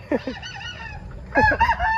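Gamefarm chickens and roosters cluck and squawk close by in two quick bursts, with a short crowing call between them.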